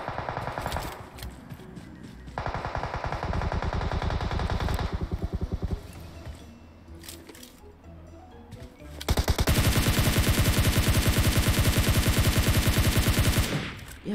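Automatic gunfire in the mobile battle royale game PUBG Mobile, with rapid bursts of varying loudness that end in one long, loud sustained volley near the close.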